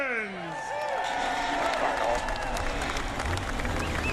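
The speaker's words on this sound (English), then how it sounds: "The engines have fired and the crowd goes wild for the second straight year" Crowd at a NASCAR Cup Series race in Iowa roars continuously at engine start, a broad wash of cheering with whistles and a commentator's voice running over it.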